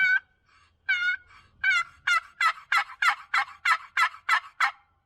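A nearly 40-year-old friction turkey call strokes out a few slow yelps, then a fast run of about ten sharp, raspy clucks in steady rhythm, close and alone.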